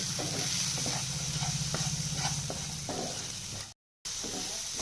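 Ground spices such as cumin powder and garam masala stirred into a sizzling pan, a steady hiss with soft repeated scraping strokes and a low hum beneath, briefly cut off near the end.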